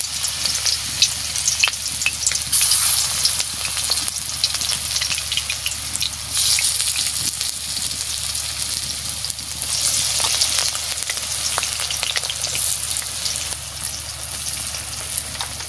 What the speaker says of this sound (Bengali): তেল গরম হয়ে গেছে, আমি ফুলের বড়াগুলো দিয়ে দিচ্ছি।